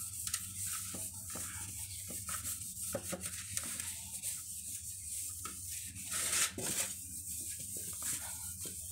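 A tissue is rubbed and wiped across a baking tray coated with a little oil or ghee, giving steady close scratchy swishing strokes that come in repeated bursts with short pauses.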